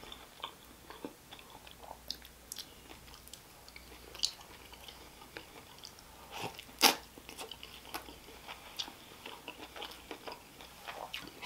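Close-up eating of a sirloin Italian hot beef sandwich with ricotta and crunchy bread, quiet wet chewing with repeated crisp crunchy bites and one sharper crunch midway.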